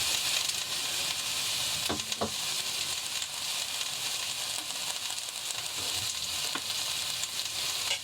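Food with a teaspoon of Dijon mustard sizzles in a Remoska Tria electric cooker inside a motorhome, a steady soft frying hiss with a couple of brief clinks and stirring scrapes.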